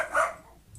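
A dog gives a single short bark indoors, heard alone at moderate loudness and fading quickly.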